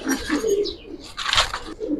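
Palla-line Giribaz pigeons coo close by inside a loft, low throaty calls repeating through the moment, with a brief brighter rustle of feathers or chirp partway through; no one speaks.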